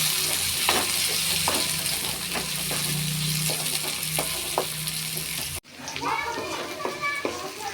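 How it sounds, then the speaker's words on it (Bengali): Sliced bitter gourd stirred and fried in hot oil, a continuous loud sizzle with scraping stir strokes, children's voices audible in the background. "এখানে উচ্ছে দিয়ে দিচ্ছি, উচ্ছেটা একটু নেড়ে চেড়ে ভেজে নেব।"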